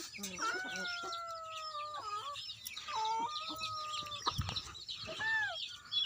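Chickens gather around a girl sitting in scattered rice, clucking nearby in repeated drawn-out and clipped calls that overlap over soft background noise.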